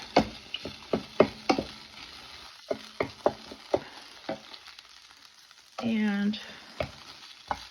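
Taco meat stretched with potatoes fries in a pan with a steady sizzle, broken by repeated scraping stirs and one longer scrape near the end. A single word is briefly spoken.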